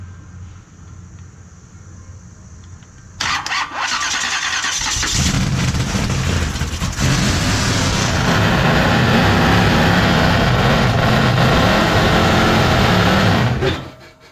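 A 1976 Chevy K-20 truck engine turns over, catches after a few seconds of cranking, and settles into a loud, steady close-up idle with some revving until it cuts off near the end.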